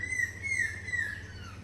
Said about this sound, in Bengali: ভোরবেলায় এত সুন্দর পরিবেশের সাথে পাখির কিচিরমিচিরের শব্দ